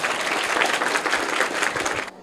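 Students in a school classroom quiz applaud a classmate's correct answer with a brief, loud, dense burst of clapping that cuts off abruptly after about two seconds.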